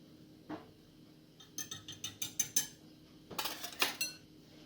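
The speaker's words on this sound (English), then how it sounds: "Let me just mix that up a little bit with the flour." Baking powder being mixed into flour in a mixing bowl with a utensil, a run of quick scraping clinks against the bowl, first one then a rhythmic burst of about six strokes and a second cluster, close and fairly soft.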